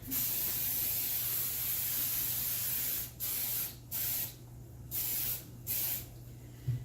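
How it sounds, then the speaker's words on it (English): Cooking spray hisses onto a cake pan in a long continuous burst, then several shorter sprays with brief pauses between them, close and fairly quiet. "So we're just going to spray this pan down."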